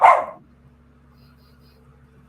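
A single sharp dog bark sounds close and loud at the start, then fades into a quiet room with a faint low hum.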